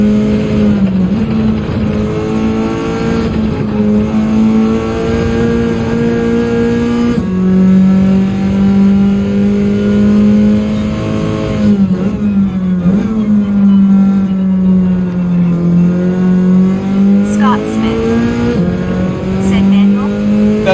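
A Nissan Silvia's engine in Gran Turismo 7 drones loudly and steadily through a race, its pitch rising and falling with shifts while someone talks over it.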